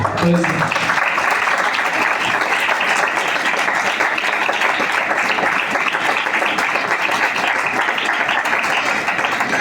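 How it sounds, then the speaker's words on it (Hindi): Congregation applauding during a Palm Sunday church service, a steady dense wash of clapping that fills the whole stretch at a loud, even level, with a brief voice at the very start. "आए यीशु के लिए तालियां बजाएं।"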